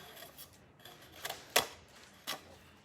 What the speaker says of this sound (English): I'm gonna take my scissors and try to clean some of that up